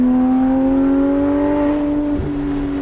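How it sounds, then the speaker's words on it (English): A Porsche 991.1 GT3 RS engine drones loud and close with a steady, slightly rising roar, wind rushing underneath, on the Cherohala Skyway. "I know you're getting a lot of wind noise, but we also want the engine noise too"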